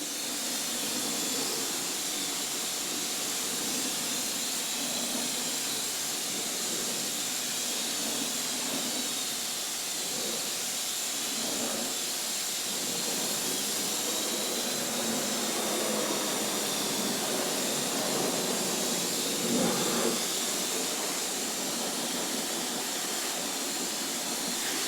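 Water spray rinses down the engine bay of a 20-year-old car, a continuous close hiss that holds steady, with small surges as the spray moves around.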